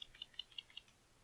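Computer keyboard keys are tapped in a quick, evenly spaced run of about five light clicks, faint and close, with nobody speaking over them.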